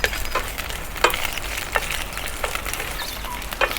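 Ginger and green onions frying in oil for Sichuan beef noodle soup, a soft, steady sizzle with occasional scraping stirs, close and moderately quiet, with no talking.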